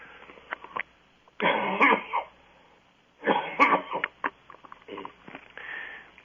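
Two sharp coughing fits a couple of seconds apart, close and loud, with a few smaller throat sounds around them over a quiet phone-line background.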